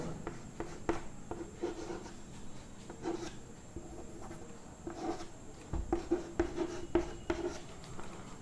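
A pen writing a sentence on paper, soft scratchy strokes in short bursts with brief pauses, close and quiet, no talking.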